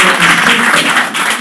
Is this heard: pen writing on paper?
no